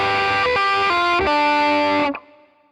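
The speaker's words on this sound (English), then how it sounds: "The third bar starts with a couple of muted strums, just to keep everything in time." Electric guitar with a distorted, effected tone plays a bar of a song, sustained notes changing pitch in steps with short choked strums between them, loud and close before stopping abruptly.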